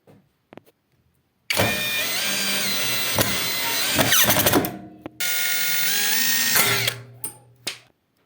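A cordless power drill drives screws into a metal drywall profile in two long whirring bursts, the motor pitch rising and straining near each screw's end, with short clicks and pauses between, close and loud.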